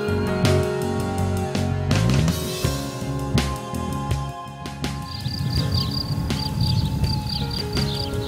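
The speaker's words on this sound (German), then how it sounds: "Hör mal, die grillen." Crickets chirp steadily outdoors on a hiking trail near a lookout point, a dense continuous trilling that fills the scene close by, with no voices.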